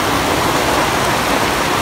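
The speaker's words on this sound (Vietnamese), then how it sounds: "ngoài kia mưa lắm, không ra được các bác" Heavy rain pours down outside with a dense, steady hiss and no gaps.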